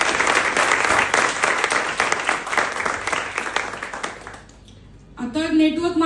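An audience at a leadership development programme in Vasai bursts into loud, dense applause that holds for several seconds, then fades before a voice begins speaking.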